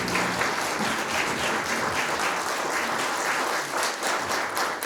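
Applause for United States Army veterans at a Veterans Day dinner, steady continuous clapping from a room full of people throughout.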